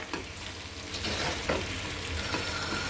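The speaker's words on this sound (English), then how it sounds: "Now I'm gonna mix it in" Pineapple being stirred into Jamaican brown stewed chicken in a hot pot, with a steady sizzle and soft, repeated scraping strokes close by.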